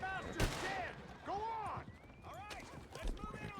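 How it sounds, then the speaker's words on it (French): Sharp gunshots crack among Red Dead Online sound effects, with whooshing tones and distant pops scattered throughout. "il y a toujours Mm. des mecs qui se tirent dessus"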